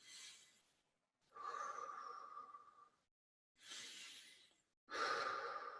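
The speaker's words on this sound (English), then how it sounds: "big deep breaths." Several big, deep breaths drawn in and let out close to the mic as the start of a breath-scaling exercise, four long breathy swells separated by short pauses, with no talking.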